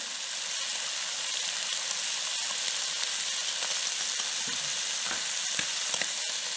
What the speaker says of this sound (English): I'm just going to give them a real quick stir.